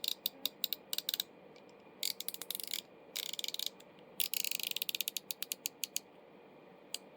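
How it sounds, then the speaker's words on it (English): GearWrench 90-tooth quarter-inch ratchet clicking in several bursts of fine, rapid, quiet ticking with short pauses between, close up and alone. "The gear wrench 90 tooth ratchets are pretty quiet and they're pretty smooth."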